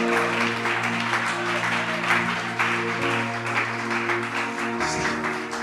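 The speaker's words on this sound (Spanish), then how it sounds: "Levante ese aplauso para el Señor." Church congregation applauding in sustained, dense, loud clapping, steady throughout with a held organ or keyboard tone underneath.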